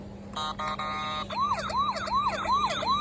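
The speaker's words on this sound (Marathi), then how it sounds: "गाडी घेतलोय दाखवू का सायरन वाजून" A toy police siren plays close by, first a few rapid electronic beeps, then a repeating rising-and-falling wail.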